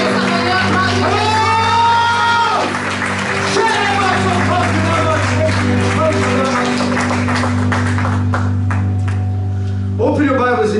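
A church congregation clapping, cheering and shouting, loud and sustained under a steady low organ-like drone, with voices rising over the applause before it dies away near the end.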